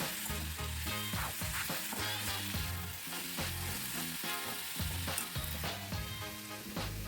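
Mint chutney ingredients sizzle and fry in a few teaspoons of oil in a pan, a steady close crackle broken by stirring scrapes, with no talking.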